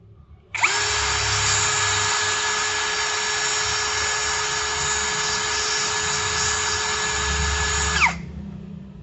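An electric screwdriver runs at full trigger on speed 1, a steady close whine holding constant for about seven seconds before cutting off, with no talk over it.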